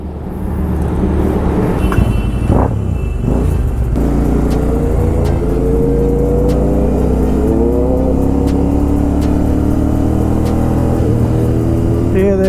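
Motorcycle engines from a Royal Enfield Super Meteor 650 group ride rumble loudly and close, with a sharp rev burst early on, then a sustained rising engine drone as the bikes pull away; faint voices come through beneath.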